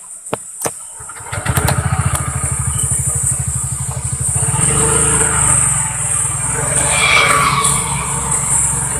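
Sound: Honda Vario 160 motorcycle engine during ride test

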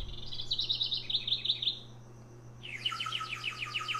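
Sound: recorded bird call played from a toy

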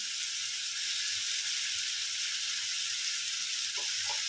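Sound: sautéing potato in a pan

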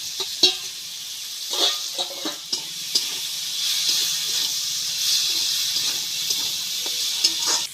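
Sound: fried radish poured into moong dal, sizzling

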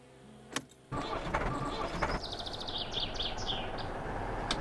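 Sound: vehicle engine starting in video game My Summer Car

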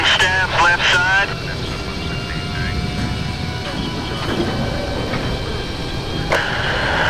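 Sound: military aircraft engines in Battlefield 3 video game

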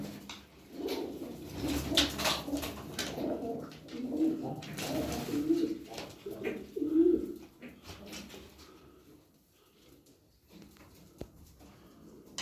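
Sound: pigeons cooing

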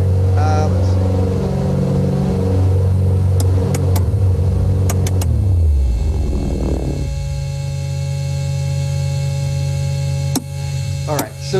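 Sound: fuel-injected aircraft engine running

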